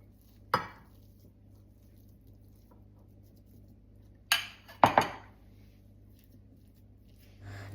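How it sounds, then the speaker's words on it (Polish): Potatoes for a potato and broccoli bake go into a baking dish in a quiet kitchen: a few separate soft knocks and clinks, one early and a quick cluster later, over a faint hum. "Ziemniaczki do naczynia."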